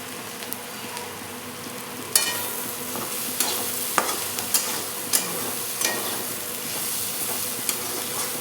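Moong dal bhaji is stirred in a frying pan, sizzling steadily with scattered sharp scrapes and clicks of the spatula against the pan, close and moderately loud.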